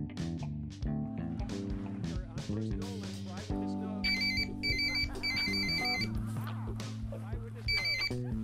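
Mobile phone ringtone chiming in repeated bursts, a bright electronic melody cutting in midway over music and voices in a cinema.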